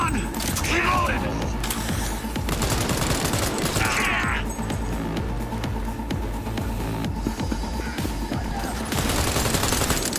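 Bursts of rapid gunfire from a newly drawn weapon in Cyberpunk 2077, loud and dense throughout, with speech-like sounds mixed in beneath the shooting.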